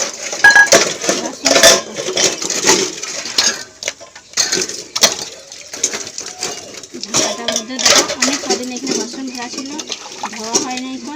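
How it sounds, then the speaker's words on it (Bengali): A metal pot lid being washed and scrubbed clean, with repeated sharp clinks and scraping clatter at close range, mixed with running water and rustling throughout. "এরকম ঢাকাটা ধুয়ে পরিষ্কার করবো"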